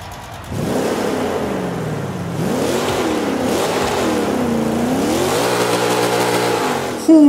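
A big-block SS 409 V8 car engine runs close and loud, its deep rumble rising and falling through several revs before settling into a steady, throaty drone.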